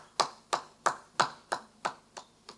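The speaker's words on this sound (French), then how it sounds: "il n'y a que moi qui applaudis" One person clapping alone during a Christmas church service: eight sharp, evenly spaced hand claps at a steady moderate tempo, fairly close and slightly fading toward the end, with no voices.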